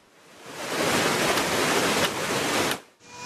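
Floodwater from a stream overflowing after heavy rain in Kalkandere, Rize, rushing as a loud, steady broadband roar for nearly three seconds before cutting off abruptly.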